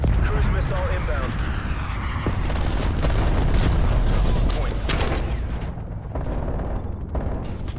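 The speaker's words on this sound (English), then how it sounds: "Cruise missile inbound." A cruise missile strike lands in Call of Duty Black Ops Cold War on the Standoff map. It makes a loud, sustained roar of explosions and rumbling blasts, with an announcer's voice partly over it.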